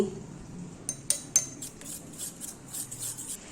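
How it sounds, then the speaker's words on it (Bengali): Fried paneer for chilli paneer being stirred in a pan, with a few sharp metallic clanks of a utensil against the pan followed by softer, steady scraping and rustling, close and fairly quiet. "তারপর একটু নেড়ে চেড়ে নিচ্ছি"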